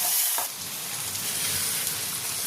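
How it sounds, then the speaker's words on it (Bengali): Crab masala sautés in hot oil for kakra kosha, giving a steady, close sizzle with light stirring. A short dip in the sound comes near the start, and then the hiss carries on evenly. "এবার খুব ভালো করে কষাতে হবে যতক্ষণ ভালো মতন তেল না ছেড়ে আসছে"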